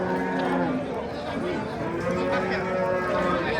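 A cow moos loudly and at length at an outdoor livestock market in Yangiqo'rg'on, Samarkand region, with the steady murmur of crowd chatter beneath it.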